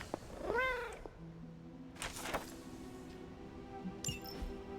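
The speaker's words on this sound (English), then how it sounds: "Oh my god, there is a cat!" A cat in the video game Marvel's Midnight Suns gives one rising, clear meow close up, followed by soft purring and a few faint game sound effects, with no one talking.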